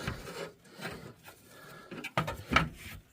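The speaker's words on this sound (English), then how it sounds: "All right, now we can get the alternator out." Metal parts rub and scrape as an alternator is worked out of a Suzuki Samurai engine bay, faint irregular grinding and shuffling with a few sharper clunks near the end and no talk.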